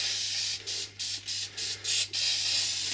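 Short bursts of aerosol paint spraying onto a model railway layout, about six quick hisses separated by brief pauses, fairly close and steady, with no voices.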